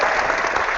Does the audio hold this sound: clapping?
yes